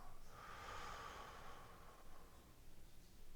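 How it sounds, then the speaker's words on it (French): Slow, soft breathing, drawn in through the nose and let out through the mouth, close and quiet with a gentle airy rush and no talking. "j'inspire par le nez et j'expire par la bouche"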